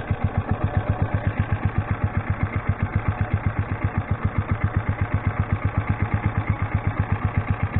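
A motorized bicycle with a CVT cruises at about 40 mph on three-quarter throttle, a loud, steady, fast putting engine drone with even pulses and no talk.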